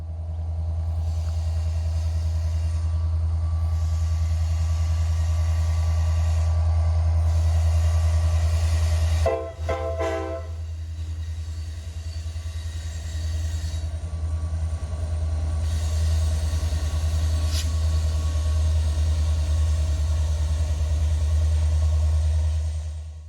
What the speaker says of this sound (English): A duo of SD-70 ACU locomotives, known as helper sets in these parts, help to push trains up the Allegheny Mountains.